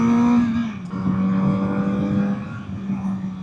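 Kawasaki Z900RS four-cylinder motorcycle with stock exhaust, engine humming steadily up close with a light throttle blip that briefly lifts the revs before settling into a smooth, even drone.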